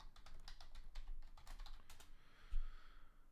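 Password keystrokes on a computer keyboard, a quick close run of crisp clicks for about two seconds, then a pause and one heavier tap, with no talking.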